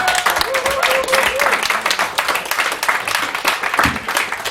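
An evening audience in France applauds a helper who worked at the reception; dense, loud clapping runs throughout, with a faint voice briefly audible early on.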